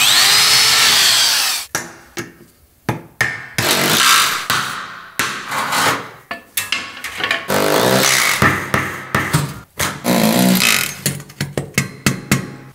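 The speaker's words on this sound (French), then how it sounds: "Ensuite, procède au pré-perçage et à la fixation par des chevilles à frapper." A power drill pre-drills holes to fix metal wall profiles with hammer-in anchors, loud and close, in repeated whining bursts of varying length separated by brief gaps.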